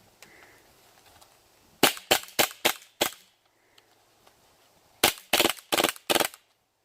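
A KWA MP9 airsoft gun fires two close, sharp strings of snapping shots separated by a short pause, each burst of about five crisp cracks in quick succession.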